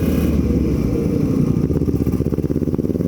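A Kawasaki Ninja RR motorcycle engine rumbles close and loud with a deep, bassy exhaust, its throbbing pulses settling into an uneven idle-like beat toward the end on a ride near Naringgul, with no talk.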